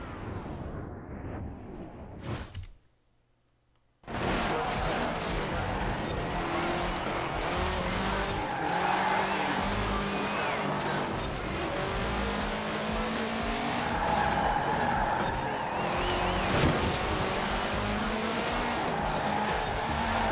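Car in Forza Horizon 4 fitted with offroad tyres sliding on asphalt: a roaring engine with long tyre squeals and skidding, loud and steady after a brief drop near the start.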